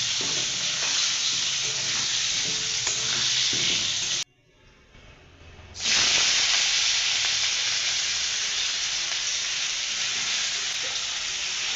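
Potatoes sizzling in hot oil in a pan, a loud continuous hiss that cuts out briefly midway and returns strong, heard close with no voices.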